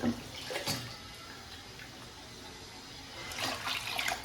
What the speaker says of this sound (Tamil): இப்போ வந்து இன்னும் புளி தண்ணி சேர்க்கணும்.